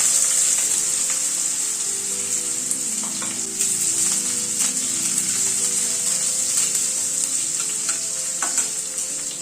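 Potato pieces frying in hot oil with mustard seeds, curry leaves and a green chilli, a steady close sizzle with occasional stirring scrapes throughout, no talking.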